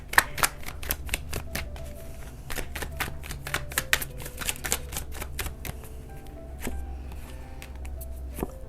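Tarot cards are shuffled and snapped down one after another, a crisp, close, rapid riffle of card clicks and slaps running throughout with no voices.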